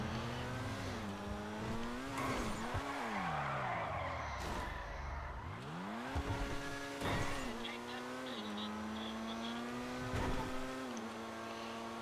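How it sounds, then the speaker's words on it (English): Car tires skid and squeal around corners in the online mode of the video game Grand Theft Auto V, with engine revs rising and falling over a steady game soundscape, and someone talks briefly at points. "Oh, I sent my car a bit too hard around them corners."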